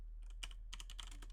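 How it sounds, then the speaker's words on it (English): Typing on a computer keyboard while coding a Discord bot in Elixir, with quiet clusters of quick key clicks in short irregular bursts close to the microphone, and no talking. "it's just easier to keep typing"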